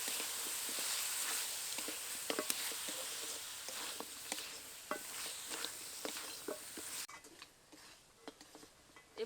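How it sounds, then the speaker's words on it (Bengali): Chana dal and goat shanks stir-fried together in a pan: a continuous bright sizzle broken by irregular ticking scrapes of a spatula, close up. The frying hiss cuts out near the end. "এবার এই ছোলার ডাল আর টেংরি একসাথে আরও বেশ কিছুক্ষণ কষিয়ে নেব।"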